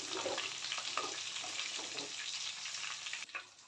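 Chicken legs fry in hot oil with a steady, close crackling sizzle running throughout, easing off slightly near the end, with no voices.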